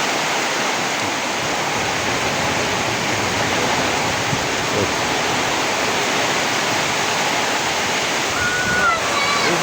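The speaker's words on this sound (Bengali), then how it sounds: "এই মুহূর্তে প্রচণ্ড বন্যা।" Severe floodwater rushes in a loud, continuous broadband roar that stays steady and close throughout, with no pauses.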